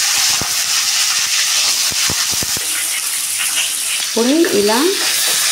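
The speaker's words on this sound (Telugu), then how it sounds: "ఈ నూనెలో వేసేస్తున్నాను." Batter-dipped eggplant slices sizzle and crackle steadily in hot oil, a close, continuous frying hiss with a few sharp pops and brief clinks, while someone speaks a few words near the end.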